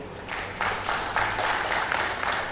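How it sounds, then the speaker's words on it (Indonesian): Applause from the audience at a college graduation ceremony, a rising wash of many hands clapping that builds after a brief pause and carries on steadily, heard at moderate distance in a large room. "Tepuk tangan dulu buat GBKP."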